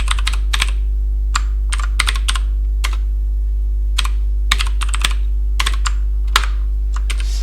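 Close, crisp computer keyboard keystrokes come in quick bursts and pauses while a TeX macro is typed, over a steady low electrical hum.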